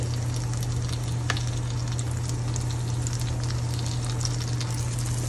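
Oat pancakes with blueberries sizzle steadily in a frying pan, a constant dense crackle and hiss with occasional small pops and a low steady hum underneath.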